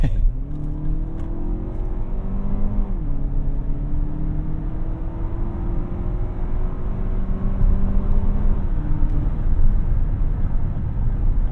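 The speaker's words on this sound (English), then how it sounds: "give it a good old highway acceleration test" A 2024 Lexus TX 350 accelerating hard on the highway, its engine drone climbing steadily in pitch with a brief dip at a gear change, under constant loud road and wind roar from inside the cabin.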